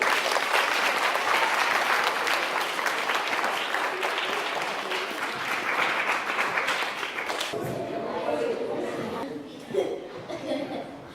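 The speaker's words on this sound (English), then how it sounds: "Give yourself a huge, massive round of applause." Loud, dense applause from school children at a primary school talk, with chatter and a few laughs mixed in, fading to scattered claps and murmuring voices after about seven seconds.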